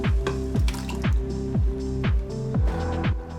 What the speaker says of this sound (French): je vais ajouter une boîte de tomates en baie.